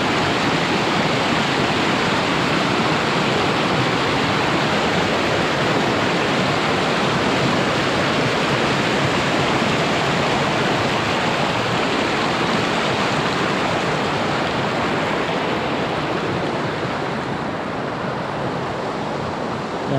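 A stream flows over rocks in a constant, loud rush of water, with no break or change from start to finish.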